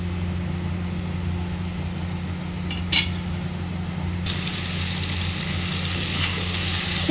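Beans with mustard-poppy paste sizzle in a frying pan while a utensil stirs them, giving a steady frying hiss with a couple of sharp scrapes and clinks against the pan.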